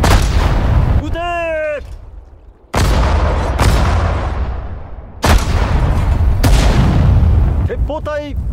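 Rifle squad gunfire in the Sudden Strike 4 video game: repeated loud bursts and booms of shots in close succession, with a voice giving orders in the clip.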